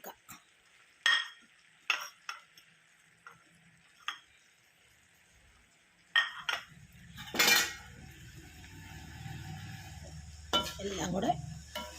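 A spoon clinks and scrapes against a pan while pork fry is stirred, producing scattered sharp metallic taps and scrapes, some louder than others, with a low sizzle and background rustle building in the later part.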